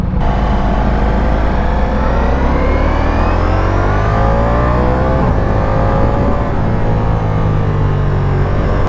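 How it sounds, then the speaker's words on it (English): Ducati V4 motorcycle engine revving hard and loud, pitch climbing and dropping through quick-shifter gear changes, close and continuous with no talk. "it's a V4 engine"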